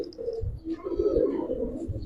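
Giribaz pigeons, old-breed Bengali flying pigeons kept for sale, cooing in a low, continuous murmur close by, with soft throaty pulses layering over one another throughout.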